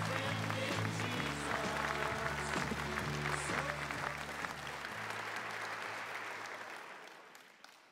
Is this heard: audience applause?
yes